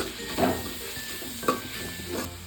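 Garam masala and spices stirred in oil in a pan for shavige bath, with three distinct metal spoon scrapes and clinks against the pan over a faint background sizzle.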